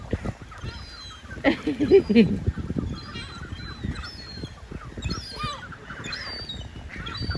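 Ducks honk and call repeatedly amid a busy outdoor feeding scene, the calls overlapping at close range over a background of movement and noise, with people's voices occasionally heard.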